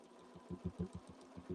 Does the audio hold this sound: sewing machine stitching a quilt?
yes